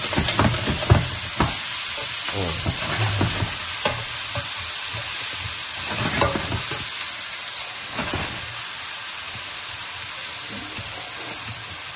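Garlic and onion frying in a pan for kimchi fried rice, a steady close sizzle broken by repeated stirring scrapes and clatters, with no talk.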